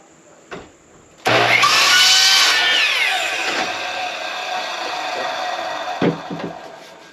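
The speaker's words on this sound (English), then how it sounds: "then I'm going to cut the pipe." Power saw cutting through a section of old used 4-inch pipe, starting abruptly with a loud high whine and grinding bite that slowly eases, ending with a couple of clunks as the cut finishes.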